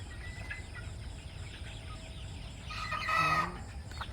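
Sonali chickens on a poultry farm give a short, loud clucking call near the end, standing out over a steady background hum of the flock and barn.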